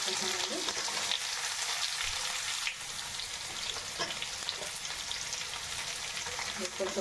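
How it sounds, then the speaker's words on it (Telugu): Onions fry in a pan for shahi paneer, a dense, even sizzle that hisses continuously and close up with faint stirring beneath it. "ఉల్లిపాయలు వేగించుకుంటాను"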